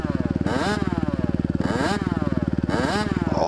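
A 2021 Honda CRF 250R dirt bike engine revs loud and close in second gear, its rough pulsing note swelling in three repeated bursts, with no talk.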